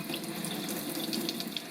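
Tap water runs steadily into a sink while paint brushes are rinsed under it, a constant close splashing hiss with no talk.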